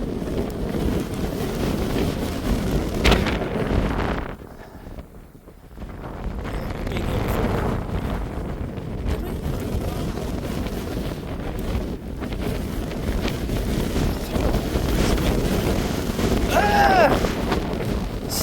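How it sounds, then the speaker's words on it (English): Strong wind buffeting the microphone outdoors on a dog walk at a reserve, loud continuous roaring gusts that dip briefly then return, with no talk. "So windy."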